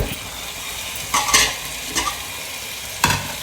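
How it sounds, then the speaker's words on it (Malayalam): Biryani masala sautéing in a pan with fresh mint and coriander leaves, a continuous soft sizzle broken by a few louder scraping stirs of a spoon against the pan. "ഇത് നന്നായിട്ടൊന്ന് മിക്സ് ചെയ്യാം വഴറ്റുക"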